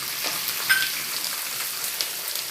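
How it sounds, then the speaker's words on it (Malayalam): Chopped spicy green chillies and curry leaves sizzle in hot oil, a steady, fairly loud crackling hiss with a brief metallic ping early on and small pops scattered through. "നല്ല എരിവുള്ള 6-7 പച്ചമുളകിനെ ചെറുതായിട്ട് അരിഞ്ഞെടുത്തത് അതും കൂടി ഇട്ടു."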